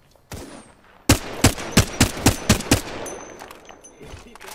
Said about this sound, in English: Some plunkers shooting at me.